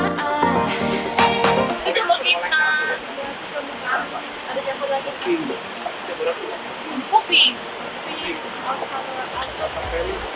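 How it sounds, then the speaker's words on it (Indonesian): Babbling water from a river beside a forest observation post, a steady broadband rush filling the background, with louder clattering sounds and brief voices near the start. "Suara gemericik air sungai menjadi latar"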